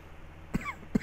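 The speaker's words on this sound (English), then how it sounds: "And I have the coughs." Two short, sharp coughs close to the microphone, about half a second apart, in a quiet room.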